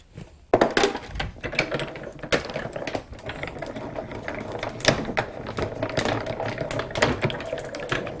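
A crafting die-cutting machine cutting card gives a series of close, sharp clicks and clunks at an uneven rhythm, with a faint mechanical hum underneath for several seconds.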